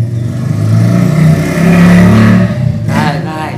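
A motorcycle passes close by on a street, its engine a loud rising and falling drone that swells, peaks and then fades, with a brief burst of talk near the end.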